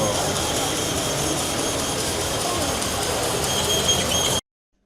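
Industrial cutting machine running on a busy trade-fair floor in a convention hall, a steady loud broadband mechanical drone with hiss and crowd murmur, continuous until it cuts off abruptly near the end.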